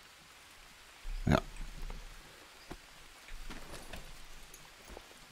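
Rain beginning to fall in the jungle survival game Green Hell, a soft steady patter with scattered drop ticks, one louder burst early on, and a brief spoken word over it.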